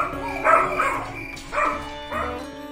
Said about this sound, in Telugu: ఒక కుక్క గట్టిగా మోగే చప్పుడు వినపడుతుంది.